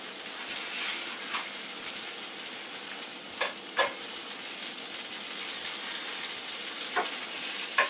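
Small potatoes brown in a frying pan, a soft continuous sizzle with occasional light scrapes and pops, fairly quiet and with no talking.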